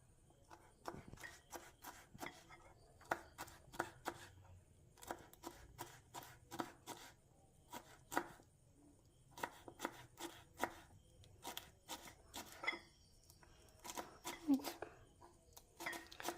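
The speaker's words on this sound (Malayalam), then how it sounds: "നമ്മുടെ കാബേജ് ലീഫും ചെറുതാക്കി അരിഞ്ഞുകൊണ്ടിരിക്കുകയാണ്" Cabbage leaves are chopped into small pieces on a cutting board for an oats omelette, with quick bursts of sharp knife taps broken by short pauses, close and fairly quiet.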